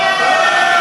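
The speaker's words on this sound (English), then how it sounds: "And there you go, the big cheer for the ring girls." Crowd at an amateur cage fighting event cheering for the ring girls, a dense, loud, continuous roar filling the whole moment.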